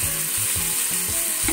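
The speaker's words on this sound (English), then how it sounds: "I just want to fry because I want to use the oil I use in frying the fish for the seafood" Vegetable oil used for frying fish for a seafood stew sizzles and crackles steadily, close and continuous with soft stirring bursts, no voices.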